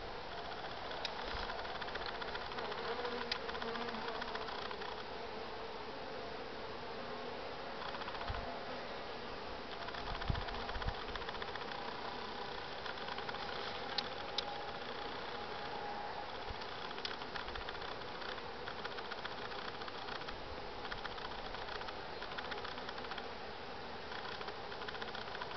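Steady dense drone of many honeybees buzzing around an opened beehive during a hive inspection, continuous and close, with occasional handling knocks and no talk.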